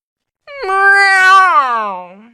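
A single drawn-out meow, loud and close, rising then trailing off over about two seconds, heard on its own.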